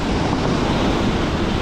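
Stormy winter sea crashes at Bugaz on the Crimean coast, a loud, dense roar of heavy surf and wind buffeting the microphone throughout, with no talking.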